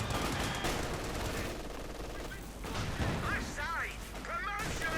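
Machine gun fire in Company of Heroes 2 rattles in continuous dense bursts, mixed with other gunfire and battle noise, while a commentator talks over the whole stretch.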